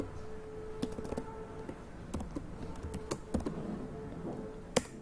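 Typing on a computer keyboard: quiet, irregular clicks and taps at close range, with a few sharper keystrokes standing out against a low background hum.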